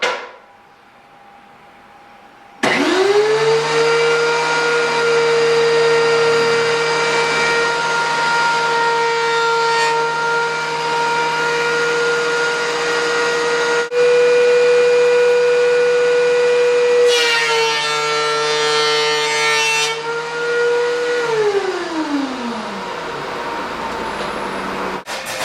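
Lumber is fed through a milling machine and planed to a uniform thickness. The motor spins up to a loud, sustained whine with steady harmonics and a brief rougher cutting stretch, then winds down after about twenty seconds.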